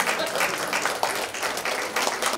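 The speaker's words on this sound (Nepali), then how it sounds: "तालीले साथ दिन म सबैलाई अनुरोध गर्दछु।" An audience at a national writers' award ceremony breaks into sustained applause, a thick, even wash of many hands clapping at once, loud and close throughout.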